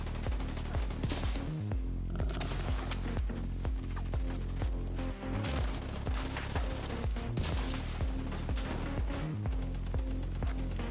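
Rapid, repeated gunfire crackles throughout a shootout in The Division 2 with shotgun and sniper rifle builds, dense overlapping shots and impacts in a steady, busy barrage.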